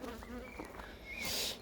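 Honeybees buzzing at a hive, a dense steady hum close by that rises louder toward the end, with no talking.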